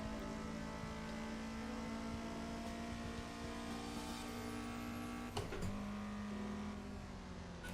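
Torino AX6 touring car in the Assetto Corsa racing game, engine droning steadily at sustained speed on a track day, loud and continuous with a brief shift-like dip near the end.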